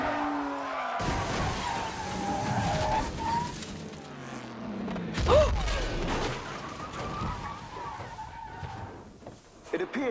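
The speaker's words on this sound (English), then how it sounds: "There has been an incident on turn 6. Number 18 and number 26 have collided." Race cars skid and collide at a turn in a rainy racing scene from the film Ford v Ferrari, with a screeching slide, a sharp crash burst midway and engine roar, while voices talk over it.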